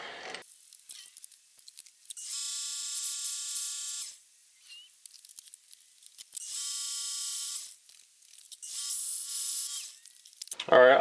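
A metal lathe facing off a hardened steel bolt makes a high, grinding, buzzing cut in three sustained bursts, with quiet pauses between them and a short clatter at the end.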